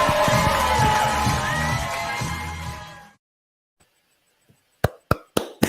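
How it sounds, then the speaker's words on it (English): Audience at a stand-up comedy show giving loud applause and cheering, a dense roar for about three seconds that cuts to silence before a few sharp knocks. "Everyone give a huge, thunderous round of applause for Andrew Searles."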